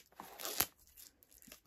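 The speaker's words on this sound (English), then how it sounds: "I hate when they do these really tight cellophane." Tight cellophane wrapping is peeled off a book in short, crinkly tearing bursts, with one sharp rip near the middle and quieter crackles after, close and faint.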